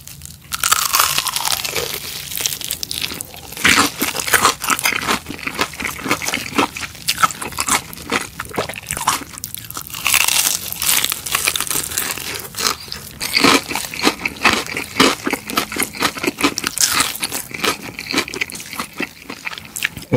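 Crunchy fried chicken dipped in corn mayo sauce and bitten, sharp crackling crunches followed by steady close chewing, loud and near with no talking.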